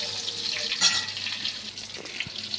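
Sliced pointed gourd fries in a pan with a soft, steady sizzling hiss, quiet and close, with a brief sharper crackle partway through.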